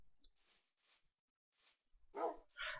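Tamed dogs in a video game barking, several short separate barks spaced out, with louder ones near the end.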